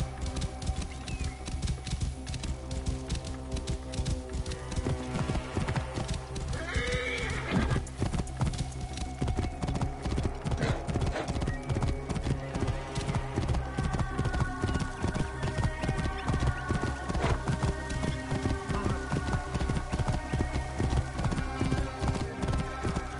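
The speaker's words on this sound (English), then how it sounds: "This must be Mered's horse." Steady clip-clop of horse hooves with a horse neighing once partway through, over a low background hum, in the video game Assassin's Creed Origins.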